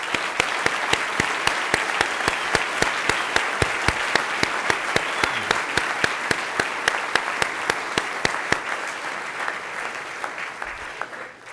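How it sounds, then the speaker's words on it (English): A lecture audience gives a round of thankful applause, dense, even clapping from many hands that holds steady throughout before tapering off near the end. "join me in a round of thankful applause for Walter Shorenstein"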